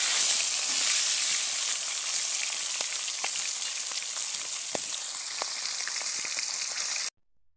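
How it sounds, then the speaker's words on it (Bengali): Rohu fish head frying in hot oil, a steady bright sizzle with scattered pops and crackles running evenly for about seven seconds before cutting off abruptly. "এখন মাথা ভেজে নেব।"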